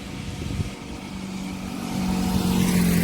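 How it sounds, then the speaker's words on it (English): Street traffic drives by at dusk, with cars and motorbikes rumbling past at a middle distance. The engine drone builds and grows louder toward the end. "And people are just driving by"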